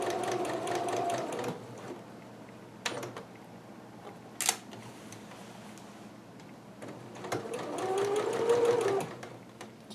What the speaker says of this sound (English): So I'm just going to stitch right there, backstitch just a little bit